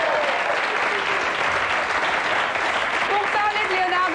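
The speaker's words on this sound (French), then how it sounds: "Je vous demande d'applaudir Stéphane Bern, Henri-Jean Servat." A French television studio audience applauds celebrity guests on a 1998 TF1 show, loud continuous clapping from a large crowd with a voice speaking faintly beneath it.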